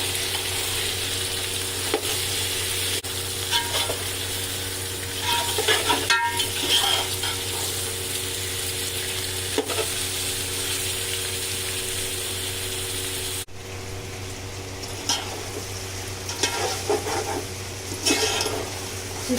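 Chicken and onions fry in a pot with a steady, fairly loud sizzle, and the sound of stirring and scraping recurs throughout.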